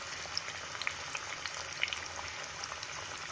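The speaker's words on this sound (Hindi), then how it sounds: "बड़े पीस को ही जो है डीप फ्राई कर रही हूँ।" Large pieces of elephant foot yam deep frying in hot oil give a steady, fairly quiet sizzle dotted with small crackles and pops throughout.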